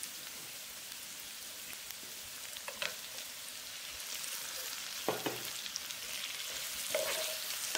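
Tomatoes and curry leaves fry in a hot pan for an egg pepper fry, a steady broad sizzle with a few sharper crackles and stirring clatters near the end, no voices.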